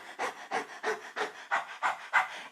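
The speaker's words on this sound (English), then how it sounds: "it's a breath of fire across the tongue. So this is our panting breath like a dog." Rapid panting breath of fire across the tongue during a kundalini yoga pranayam, about eight rhythmic breathy pants in quick succession, close and fairly soft.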